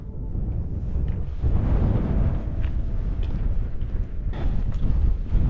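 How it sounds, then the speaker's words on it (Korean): Strong sandy wind gusting across a Himalayan mountain trail on the way to Kangchenjunga base camp, a loud continuous rushing roar buffeting the microphone close up, with no voices. "산길인데 눈을 뜰 수 없을 정도로 네, 모래바람이 불고 있습니다"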